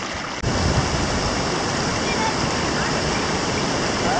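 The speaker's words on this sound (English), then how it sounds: "There's the falls." Fruitback Falls at Cape York: a broad, steady roar of falling water, loud and continuous with no breaks, after a brief quieter moment at the start.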